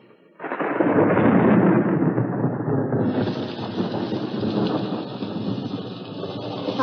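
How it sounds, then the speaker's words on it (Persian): Thunder rolls through a storm in an animated cartoon, starting with a sudden loud crack and then a long, heavy rumble that stays strong and fills the scene, with no voices. "از صدای رعد و برق از خواب پرید"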